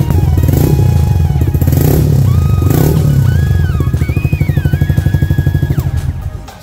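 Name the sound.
Yamaha PG-1 custom motorcycle exhaust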